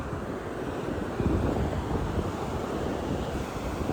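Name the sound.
ocean waves on a beach in San Juan, Puerto Rico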